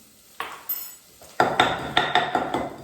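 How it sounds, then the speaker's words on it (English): Cumin seeds pounded in a mortar, a couple of separate clinks first, then a rapid run of sharp, ringing pestle strikes close by, with no voices. "So I'll put some cumin in the mortar."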